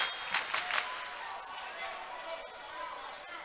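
A home crowd at a Hudson volleyball match swells into cheering and clapping after a service ace, moderately loud and sustained, with a commentator talking over it.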